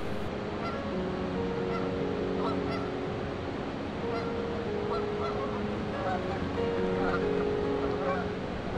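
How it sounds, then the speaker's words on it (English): Several geese honk repeatedly from a bridge over the DuPage River as they fly off, the calls steady and fairly close over continuous flowing water noise. "There goes some geese."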